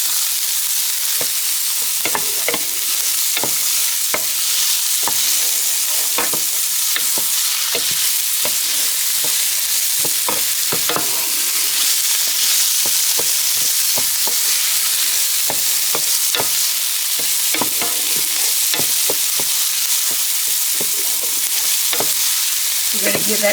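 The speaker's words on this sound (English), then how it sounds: "That's a tablespoon of garlic. We're going to saute it a little bit." A tablespoon of garlic sautéing in a pan, a loud steady sizzle with frequent scraping stirs and clicks scattered throughout, no voices.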